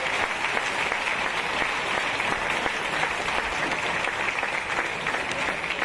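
Sustained audience applause at an Apollo 11 anniversary gala, a dense, even wash of clapping from a large crowd filling the hall without letup.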